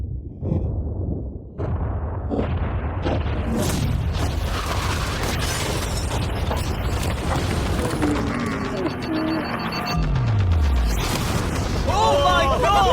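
A yacht blows up in a video game: a dense, sustained roar of blasts and rumbling debris runs throughout, with a falling low boom near the end, while voices react loudly over it.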